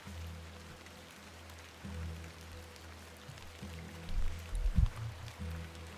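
Soft, steady rainfall in the video game The Excavation of Hob's Barrow patters quietly in the background, joined by low rumbling tones that swell briefly near the end; no one speaks.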